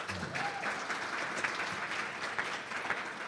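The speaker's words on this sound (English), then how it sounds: "So let's give it a round of applause." A conference audience gives a steady round of applause, continuous even clapping with a soft room wash and no break throughout.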